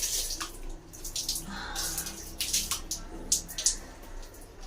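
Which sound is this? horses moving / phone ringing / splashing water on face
splashing water on face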